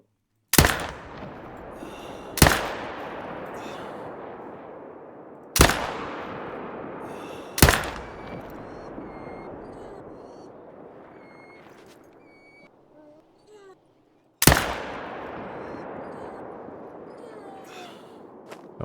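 Five loud rifle shots ring out in theHunter: Call of the Wild during a reindeer hunt in a snowy taiga, each a sharp crack followed by a long fading echo, irregularly spaced with quiet gaps between.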